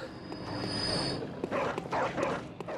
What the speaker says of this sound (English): I hate you, dogs. You're so terrifying.